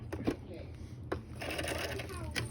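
A sewing machine runs a short forward stitch, its steady mechanical whir close and fairly loud, with a brief clunk near the start and another about a second in as the work is handled.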